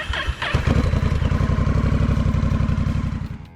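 Honda Rebel 1100 motorcycle engine starting with a quick crank, then settling into a loud, close, lumpy idle with a steady rapid pulsing beat.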